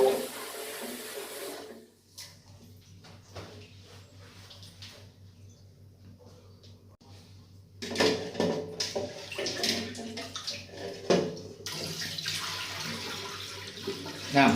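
Sticky rice gets rinsed in several changes of water for sweet fermented rice, with running and splashing water, quieter swishing in between, then louder pouring and sloshing close by.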